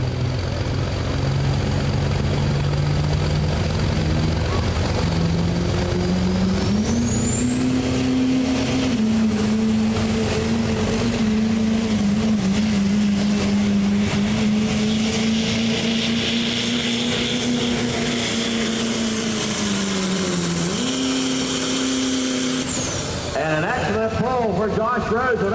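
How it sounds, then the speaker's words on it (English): A 2007 Chevy Duramax diesel pulling truck makes a smooth pass down the left side of the track at an Urbana, Ohio truck pull, its engine roaring loud and steady as the pitch climbs, with announcer talk over it. "Josh Rose with that Duramax. That was a smooth pass down the left-hand side of the track."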